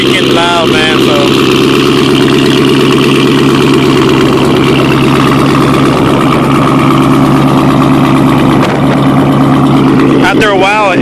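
A car engine idles loudly after a cold start through a full Roush catback exhaust with no catalytic converters, a steady deep burbling drone running throughout, with a voice briefly speaking over it at the start and end.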